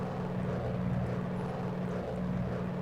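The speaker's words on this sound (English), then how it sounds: "We are flying chase behind our 4 A6M Zeros." Mitsubishi A6M Zero propeller fighters in the IL-2 1946 flight simulator, heard from a chase position as a steady, loud engine drone with a low harmonic hum that holds throughout, with no talking.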